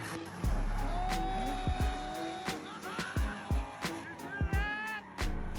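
A tank drifts with tires squealing, long sliding screeches mixed with engine growl and sharp intermittent bursts, fairly close and loud throughout.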